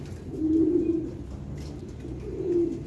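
A racing pigeon kept as a stock breeder bird gives two low, throaty coos close by, a soft rolling call repeated after a short pause over steady background hum.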